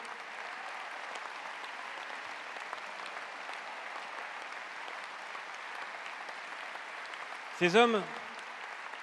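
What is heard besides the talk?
audience applause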